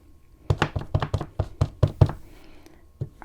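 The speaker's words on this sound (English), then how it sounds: "You want to lightly tap, tap, tap instead of squish down hard, right?" A rubber stamp tapped lightly and repeatedly onto an ink pad while making a card, a quick series of soft, close knocks in an uneven rhythm, then a brief pause and one last tap.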